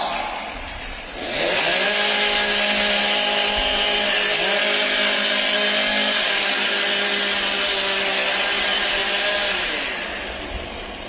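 STIHL chainsaws warming up at a professional timbersports championship, several engines starting together then holding a loud sustained high-revving whine for many seconds before easing off.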